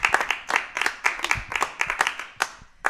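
A comedy-club audience at a geek-themed stand-up show claps for a performer, with individual hand claps close and distinct, uneven and thinning out over a few seconds, no voices.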